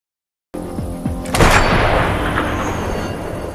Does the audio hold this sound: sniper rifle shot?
yes